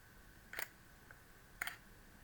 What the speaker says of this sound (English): it's taking a good second to open up the shutter and then take the photograph.